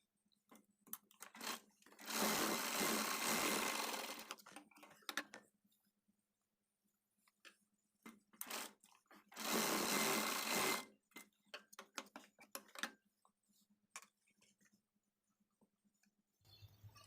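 A sewing machine stitches tucks into a blouse, running in two loud sustained bursts of about two seconds each, with softer scattered mechanical clicks and handling noise in between.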